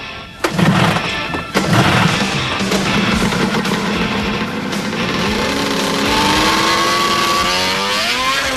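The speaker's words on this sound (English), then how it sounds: "this 180 horsepower machine has all the buoyancy of a cathedral, and I'm going to drive it on water" A 180-horsepower amphibious car driven on water in Iceland at full power, its engine roaring loud and steady throughout, with the revs climbing into a rising whine near the end.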